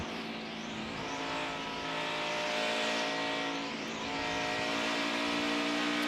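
NASCAR Xfinity Series race cars lapping Dover International Speedway, a continuous dense engine roar with layered droning pitches and passing cars rising and falling, loud and steady throughout.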